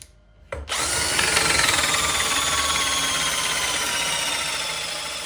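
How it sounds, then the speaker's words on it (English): A special drill fitted with a plug cutter, used with a Kreg pocket-hole jig, spins up after a brief quiet start and then whines steadily and loudly as it bores wooden plugs, a continuous high grinding that eases slightly toward the end. "there's a special drill that makes plugs"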